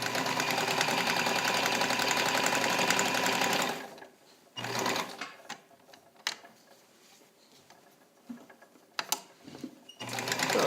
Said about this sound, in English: I'll come over here and do another zigzag for you. You can do zigzag in leather, of course.